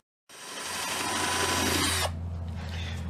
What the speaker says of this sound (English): we are drilling now the through bolts that go through this cover up here